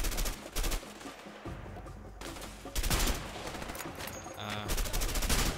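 Rapid bursts of automatic gunfire from a video game, A Way Out, crackle and thud continuously, loud and close, with a few brief pauses between volleys.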